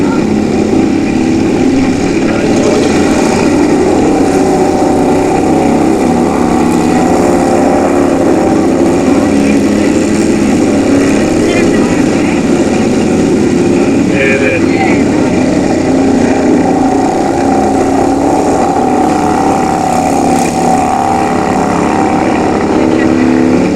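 Greenfield racing lawn mower engines drone loudly and continuously through a close race, a steady mechanical roar with people talking faintly underneath throughout.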